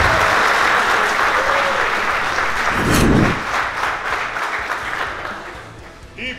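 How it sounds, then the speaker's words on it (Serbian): An audience at a Kali Battle Cup dance battle claps in loud, sustained applause that swells briefly midway and then tapers off, with a voice faintly audible underneath. "Ajmo jedan aplauz veliki."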